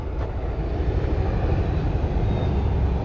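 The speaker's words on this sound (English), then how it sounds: "whoa, here come a train from Yarmouth" A train from Yarmouth heading into Norwich passes close by on a summer day, a loud continuous rumbling roar that stays steady throughout.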